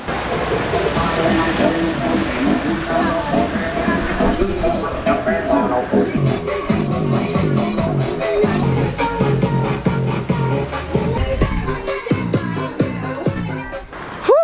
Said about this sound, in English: That was probably one of the most terrifying bus rides we have ever been on this entire trip.